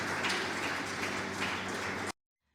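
Audience clapping at an evening panel discussion event on demographic change and democracy, a steady dense wash of applause lasting about two seconds before cutting off abruptly into silence.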